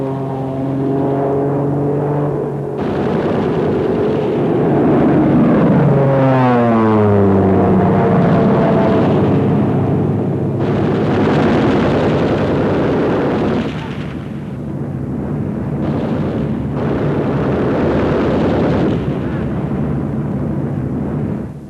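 An A-36 dive bomber strafing a German pillbox in Sicily in 1943: a loud, roaring engine sweeps down in pitch as the plane dives, with heavy gunfire and blasts running through the whole stretch.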